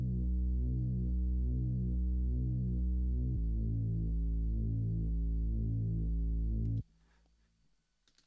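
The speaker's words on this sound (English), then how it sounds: "this is pretty much it's a Reese style sound" Reese-style synth bass built from two detuned saw waves with four-voice unison, a loud, thick, throbbing low drone that shifts pitch twice and then cuts off, leaving faint noise.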